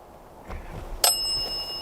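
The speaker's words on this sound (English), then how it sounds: "Can you set the bell off for yes?" A small bell gives a single bright ding as a yes signal during a solo camping encounter, sharp and clear but fairly quiet, ringing out briefly over a dim outdoor background.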